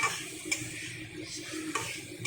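Raw loitta, Bombay duck fish, frying in a hot pan with a bright, close sizzle and a few sharp clinks and scrapes against the pan.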